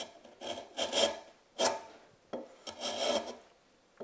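Hand plane shaving tough end grain on a workbench leg, a series of rasping strokes with short pauses between, close and fairly loud with no talk.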